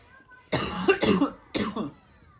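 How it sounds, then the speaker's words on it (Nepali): A few close, harsh coughs in quick succession, separated by brief pauses, loud against a quiet background. "खोकी लाग्छ त मम्मीलाई पनि"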